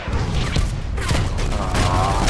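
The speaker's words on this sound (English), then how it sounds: "And again the mortar." Mortar shells landing in Contract Wars: loud, close booming impacts with crashing debris over a constant rumble of battle noise, several hits and cracks stacked within a couple of seconds.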